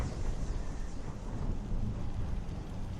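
Rumbling, windy storm ambience in a modded PC video game, with low thunder rolling continuously and a soft hiss of rain, fairly quiet and steady throughout with no talk.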